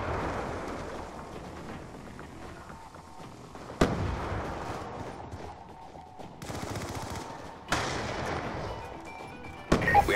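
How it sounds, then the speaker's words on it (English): Grenade blasts and rapid gunfire from a Call of Duty Black Ops 2 multiplayer match, with sharp loud explosions at steady intervals over a continuous rumble of shooting and battle noise. "Watch out, grenade!"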